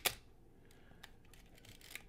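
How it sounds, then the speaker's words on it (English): The shutter of a Pentax ME Super 35mm SLR fires with one crisp, sharp click close up, followed by faint scattered mechanical ticks in an otherwise quiet room. "I'm showing you the shutter mechanism there."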